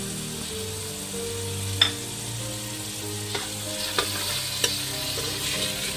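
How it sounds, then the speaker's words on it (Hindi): Onion, tomato and garlic frying in a pan for bhuna gosht, a steady soft sizzle with a few sharp clinks of a spoon stirring, fairly quiet and close, no voices. "अब इसके अंदर टमाटर और लहसुन के जवे डाल देंगे।"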